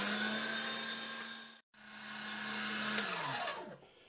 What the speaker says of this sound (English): Next, I am going to quickly mince my 2 big onions into that.